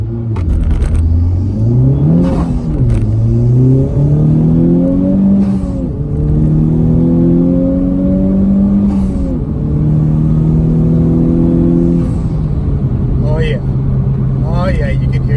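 A 2020 Honda Civic Type R with a newly fitted aftermarket mod, in R+ mode with traction control off, revs loudly and close several times, its engine note climbing and falling, with a voice talking over it.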